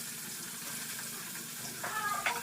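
Cauliflower, potato and soybean curry cooking in a pan, a soft steady sizzle with light stirring scrapes toward the end, close and low in level.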